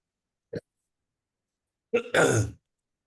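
Close and quiet, a woman gives one short throat-clearing grunt, then after a pause a longer harsh cough with a rough, raspy clearing.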